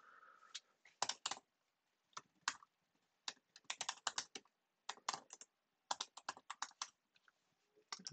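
Login details are typed on a computer keyboard in quick, close bursts of crisp key clicks separated by short pauses, with no talking.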